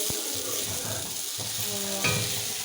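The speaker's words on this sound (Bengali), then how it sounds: "এই যে দেখো, এখানে রান্না হচ্ছে শিরমাদু ভাজা" Shirmadu frying in a pan at home, giving a steady, close sizzle and hiss that runs through the whole moment, with soft stirring clatter and a brief louder crackle near the end.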